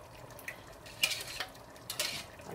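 A spoon stirring coconut milk into a pumpkin soup in a pot, faint soft scraping and light clinks in a few short strokes, quiet and close, with no talking.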